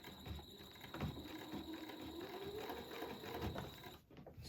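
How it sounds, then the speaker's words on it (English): Sewing machine stitching straight-line quilting at a slow pace, a steady close mechanical whir with faint rhythmic needle ticking and a brief dip near the end. "as I'm sewing, I'm going to go slow for you"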